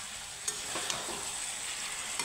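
Cauliflower and potato sauté with spices in a pan, giving a steady close sizzle with a couple of sharp spatters and soft stirring scrapes.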